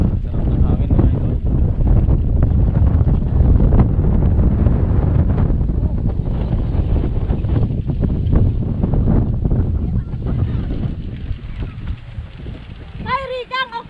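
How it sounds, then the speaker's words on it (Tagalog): Wind at an outdoor view deck pummels the microphone with a loud, continuous low roar that eases slightly near the end, where a voice comes through. "Sarap ng hangin mga idol."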